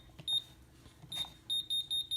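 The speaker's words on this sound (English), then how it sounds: "Gives us the beeps and then goes dark." Short, sharp electronic beeps from an AMSEC ESL5/ESL10 safe lock keypad after a wrong combination is entered: a single beep, then another, then a quick run of four evenly spaced beeps, close and clear over a quiet background.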